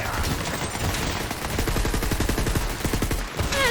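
Legendary weapon firing in Borderlands 3, a rapid stream of shots in quick succession, loud and close, with explosive bursts mixed among the rounds and no talking.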